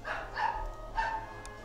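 A dog in the Polanie II strategy game gives a few short, faint barks spaced across a second or so, with a low background hum underneath.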